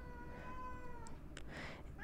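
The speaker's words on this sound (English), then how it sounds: "I'm sorry if you can hear my cat meowing." A pet cat meows indoors, a drawn-out harmonic cry followed by a couple of short, sharper calls, fairly close over a steady low hum of room noise.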